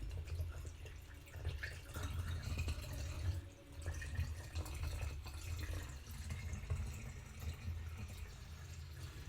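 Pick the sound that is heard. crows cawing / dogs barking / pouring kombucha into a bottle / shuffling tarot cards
pouring kombucha into a bottle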